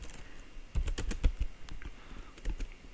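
Fingers tap out Java code on a computer keyboard, a close, quiet flurry of uneven keystrokes in short bursts with brief pauses between, no voice over them.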